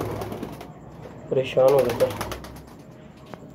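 Domestic pigeons kept by a fancier coo in a short burst of soft throaty calls, close by, alongside someone talking and light background noise.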